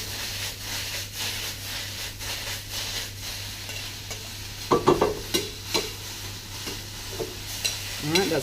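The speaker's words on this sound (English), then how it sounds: "I don't want to overcook this spinach. Overcooking the spinach will actually turn it brown. Just want to wilt it gently." Spinach wilts gently in a pan, giving a soft sizzle while it is stirred, with quiet scraping strokes that grow more distinct in the second half.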